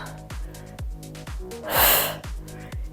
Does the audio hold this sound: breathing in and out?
yes